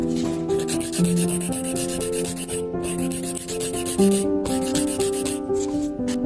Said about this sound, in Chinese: 我们先来打磨指尖直线，大拇指固定住甲床啊，先把直线拉出来